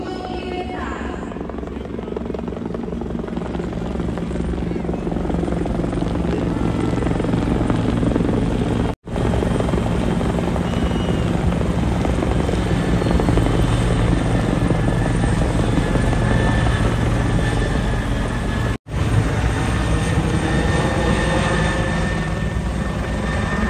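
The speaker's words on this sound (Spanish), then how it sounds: "se aproximan nuevos helicópteros" Military helicopters approach during a September 15 independence-day parade flyover in El Salvador, their rotor thump and engine drone loud and continuous, growing nearer, with a few brief dropouts.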